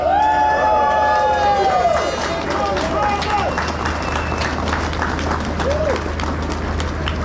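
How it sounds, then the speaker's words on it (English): A large outdoor crowd claps and cheers at a farmers' tractor protest rally in Westminster, London. Loud, dense, continuous applause mixes with sustained horn tones and whistles under a steady crowd roar, while a voice speaks over it. "please give yourself a big round of applause"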